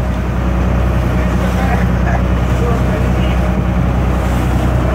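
A motorboat engine drones steadily at close range on the ocean off Hawaii, a constant low hum with water rushing underneath.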